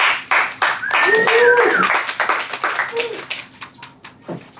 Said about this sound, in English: I've noted those who didn't clap.